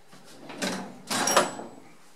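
A collet drawer in a workshop slides open and shut twice, each a short close scraping rush with a faint rattle of metal collets inside.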